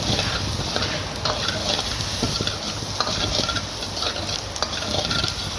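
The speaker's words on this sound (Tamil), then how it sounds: "கட் பண்ண இட்லியை போட்டு நல்லா வதக்கணும்." Cut idli pieces sautéing in ghee in a pan, with a steady loud sizzle under repeated clicking spatula strokes, close and with no talk.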